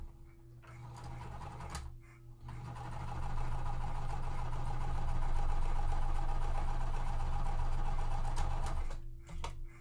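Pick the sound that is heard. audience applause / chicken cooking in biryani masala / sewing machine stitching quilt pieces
sewing machine stitching quilt pieces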